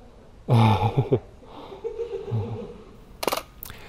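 Shutter of a medium format film camera at a pregnancy portrait session, sharp mechanical clicks near the end after a short burst of voices and quiet room tone.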